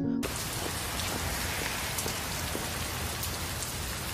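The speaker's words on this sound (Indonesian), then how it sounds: "Karena di luar sedang hujan deras" Heavy rain pours steadily outdoors, a dense unbroken hiss of drops hitting surfaces for the whole stretch, with no voices.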